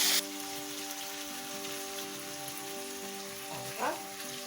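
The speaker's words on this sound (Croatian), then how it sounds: "Kao što vidite, meso sam okrenula, sada pržim sa druge strane" Meat schnitzels fry in a pan with a steady, close crackling sizzle that holds evenly throughout, with no voices.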